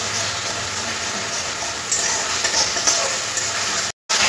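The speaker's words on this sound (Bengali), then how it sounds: "আদা রসুনটাও পেঁয়াজের সাথে ভাজতে হবে।" Sliced onion and ginger-garlic paste fry together in a pan, a steady close sizzle with light stirring scrapes that cuts out abruptly near the end.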